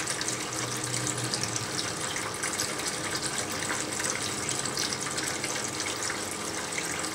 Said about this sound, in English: So you can see some steady drips of nitric acid coming.